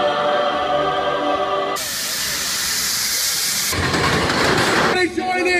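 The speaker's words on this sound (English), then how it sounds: "Now we're in the front of the train." An amusement park train ride at Knott's Berry Farm gives loud, sustained bursts of hissing, like steam. The hiss sits over tonal background sounds and nearby voices.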